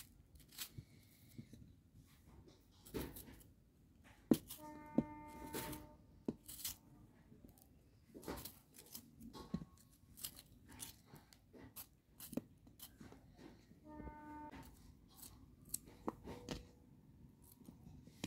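A knife chops three medium-sized tomatoes finely on a board in a home kitchen, with a steady series of quick, crisp cutting taps in irregular bursts, close and fairly quiet, with no talk.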